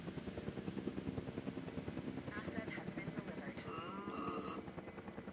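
A helicopter flying in Jurassic World Evolution 2: a steady rhythmic rotor thump at low volume, continuous beneath game sounds and a voice talking over it.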